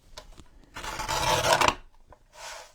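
A blade rasps through thin coffee-packaging cardboard for a junk journal cover, one close, loud scraping stroke of about a second, with a few small taps before and a softer scrape after.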